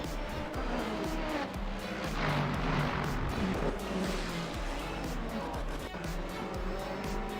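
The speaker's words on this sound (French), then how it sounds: "Les GT3 qui suivent les hypercars, qui ont moins de rythme et qui doublent même la fin de peloton des hypercars." GT3 and hypercar race cars roar past together at Le Mans, a dense continuous engine drone with overlapping passes and shifting pitch, steady and loud at a distance.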